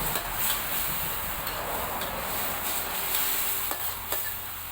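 Green mango being stir-fried with shrimp paste in a pan, a steady close sizzle with scraping stirring strokes and a few light utensil ticks, no voices.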